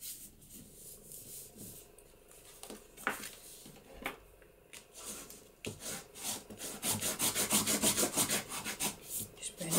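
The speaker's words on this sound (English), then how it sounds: "Just burnish that down so that that glue gets spread out and is stuck there." Glued paper embellishment on a Christmas card is burnished by hand, giving close, dry rubbing scrapes that start sparse and become a quick, steady back-and-forth rhythm.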